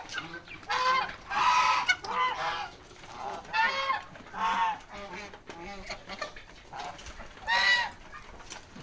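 Arab chickens at feeding time on a farm in Banda Aceh give repeated loud, nasal honking calls in uneven bursts, several birds overlapping nearby.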